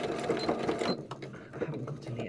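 Sewing machine stitching Gelli print fabric, its needle running in a fast, steady mechanical chatter close by, with someone talking over it.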